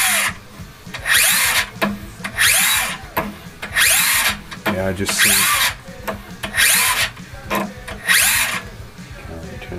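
A homemade generator built from an inkjet printer stepper motor runs loudly in repeated bursts with a whining, grinding mechanical drone, pausing briefly between runs, while a person speaks a few words over it.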